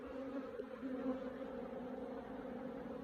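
A steady, low hum of many honeybees buzzing around their hive, close and continuous.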